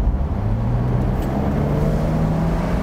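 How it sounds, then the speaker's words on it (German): A Porsche 911 Carrera Cabrio (992) with 385 hp accelerating on the road in normal mode, its exhaust a loud, steady rising drone heard from inside the car, with no talk. "Ihr habt es gehört, da kommt die Abgasanlage raus."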